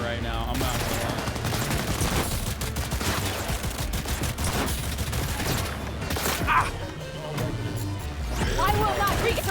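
Dense automatic gunfire and firefight effects from the video game Cyberpunk, loud and continuous with sharp bursts, while people talk over the shooting.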